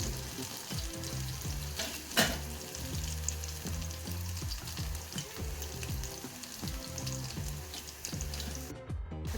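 Meal maker soya chunks deep frying in bubbling oil give a steady, dense sizzle with crackling pops throughout, close and loud, with no talking.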